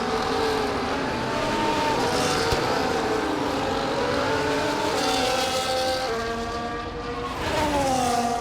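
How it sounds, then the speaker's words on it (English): An F1 car in EA Sports F1 24 loses rear traction in a wet race, its engine revving high and shifting pitch continuously as it slides, loud and close with no talk. "Big loss of traction there in the rear, and it's going to happen many times throughout this wet race"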